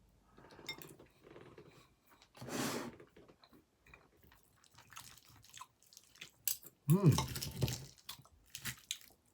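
Cutlery clinks and scrapes against a dish as salmon noodle stir-fry is tasted, with a few quiet, sporadic taps, chewing and someone talking in between.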